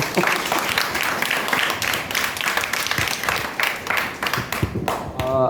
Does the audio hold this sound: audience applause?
yes